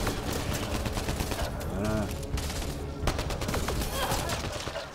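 A weapon fires in Mass Effect Andromeda, giving loud, dense bursts of rapid gunfire that run nearly nonstop, with brief lulls and a voice speaking over it.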